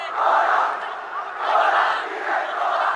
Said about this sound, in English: The Thomian crowd finding their voice.